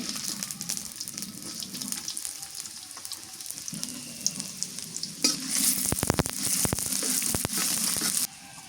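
Onion frying in mustard oil in a pan, a continuous sizzle with stirring scrapes, growing louder and more crackly toward the end before dropping off abruptly.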